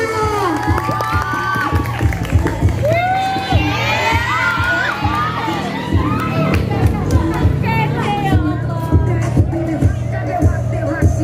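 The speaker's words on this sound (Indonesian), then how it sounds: "beri tepuk tangan yang meriah" A school crowd at a student council candidate debate cheers and shouts loudly, with children's whoops and a dense babble of voices over scattered clapping throughout.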